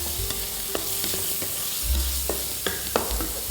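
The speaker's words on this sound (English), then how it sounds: "Now in this oil, this rich oil, I'm gonna add some mushrooms. Add in our onions, add in our chili flakes." Mushrooms, onions and chili flakes fry in rich hot oil with a steady, close sizzle, broken by occasional sharp scrapes and taps as the mixture is stirred.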